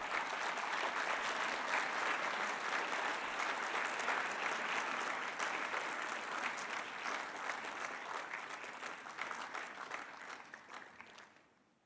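Sustained applause fills a hall at a science forum, many hands clapping evenly for about ten seconds before tapering off and stopping, with no speech over it.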